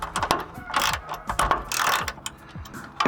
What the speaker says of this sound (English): to tighten this bottom one, you need a 13mm deep socket one.